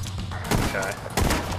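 Gunshots in The Division 2 crack out in two loud bursts over steady game background noise, with a voice talking faintly underneath.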